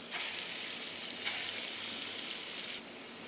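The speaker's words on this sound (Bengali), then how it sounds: "এখানে আমি তেলের উপরে বড়াগুলো ভেজে নিচ্ছি" Lentil-paste fritters (bora) deep-frying in oil in a kadai for a Bihari dubki curry, with a soft, even hiss of bubbling oil that drops away near the end and no speech.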